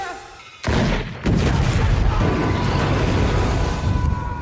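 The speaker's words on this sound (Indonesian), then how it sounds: "menembak balon parade yang sudah terisi penuh dengan gas, sehingga Sheriff Eric pun ikut meledak bersama dengan balon gas tersebut" A gas-filled parade balloon explodes after a gunshot in a film scene: a sudden loud blast followed by a second hit and a sustained, roaring rumble of fire and debris.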